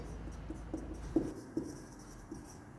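Math being written on a board: quiet scratchy strokes and a handful of soft taps spread over a few seconds, close and faint.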